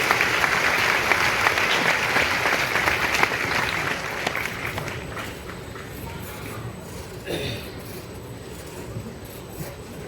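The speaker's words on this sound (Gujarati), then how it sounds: "આપણે સૌ જોરદાર તાળીઓથી સ્વામી બાપાનો આભાર વ્યક્ત કરીએ" Applause from a temple audience at Akshar Mandir in Gondal during a children's day puja darshan with Mahant Swami, a dense steady clapping that fills the space and slowly eases in loudness.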